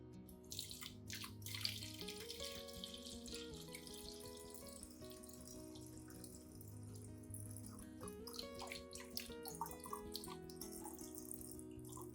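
A banana-based orchid solution is poured into a spray bottle, making a soft, continuous trickle and splash of liquid with a few small gurgles and clinks, fairly faint and without speech.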